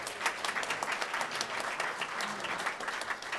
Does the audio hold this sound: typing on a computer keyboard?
no